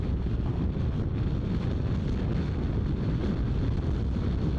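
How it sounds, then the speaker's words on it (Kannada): Strong wind in Ladakh buffets the microphone in a loud, continuous low roar that holds steady for the whole stretch, with no voices. "ಈಗ ಹುಚ್ಚು ಗಾಳಿ ಬರ್ತಾ ಇದೆ, ಏನು ಮಾಡೋತ್ತೋ ಗೊತ್ತಿಲ್ಲ."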